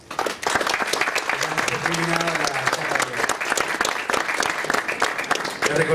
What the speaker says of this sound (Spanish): le damos un fuerte aplauso a Jorge Ducio.